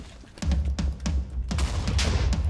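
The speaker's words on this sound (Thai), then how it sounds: "เธอดูเขายิงปืนนะเธอ" Rapid bursts of Minecraft SkyBattle gunfire crack in a quick, uneven series over a continuous low rumble, loud and close, with no speech.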